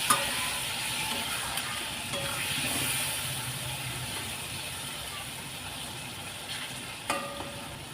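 Ground chilli, turmeric and cumin-coriander spice powders being stirred in a hot frying pan, a soft continuous sizzle and hiss with a few light utensil clicks.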